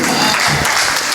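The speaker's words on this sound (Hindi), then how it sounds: "तालियां भाई, तालियां, जोरदार तालियां।" An audience at a Hindi poetry gathering in Indirapuram, Ghaziabad, claps in a dense, loud burst of applause that fills the whole short moment.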